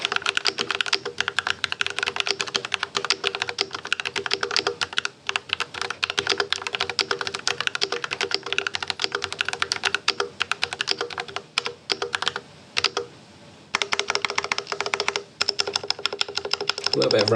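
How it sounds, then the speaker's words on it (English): Rapid, continuous clacking of an ABM 084 mechanical keyboard with newly changed stabilizers being typed on, close and loud, with slight rattle and a couple of brief pauses in the keystrokes. "Now let's have a look at what the keyboard actually sounds like."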